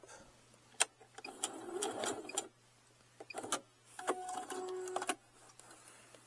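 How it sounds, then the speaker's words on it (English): A sewing machine stitches a zippered wallet in two quick bursts of rapid mechanical clatter, separated by a brief stop, close and fairly quiet against a steady low hum. "So I'm going to continue to sew and stop."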